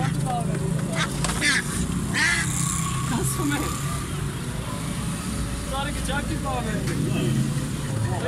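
Pet ducks quack now and then through steady loud background noise, with people talking over them.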